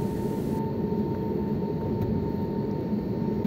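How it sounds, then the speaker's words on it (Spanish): Steady broadband roar of aircraft arriving at El Dorado airport in Bogotá on a cold early morning, a continuous distant engine rumble holding level throughout with no talk. "Espero cómo se ven esos aviones llegando"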